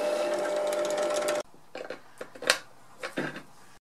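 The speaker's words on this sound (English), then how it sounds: "I drilled a hole in the opposite end using a step drill." A step drill bores a cable-gland hole in the end of an infinity mirror enclosure: a steady, loud motor whine runs for about a second and a half, then stops, followed by scattered quieter clicks and handling noises.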